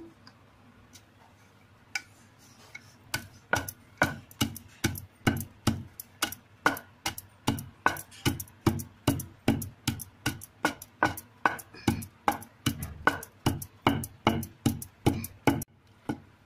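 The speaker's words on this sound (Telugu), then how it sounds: "ఫస్ట్ ఉప్పు, జీలకర్ర వేసి దంచుకుంటాను." Salt and cumin seeds being pounded in a stone mortar, a steady run of sharp, close knocks repeating roughly twice a second and growing more regular, with no talk.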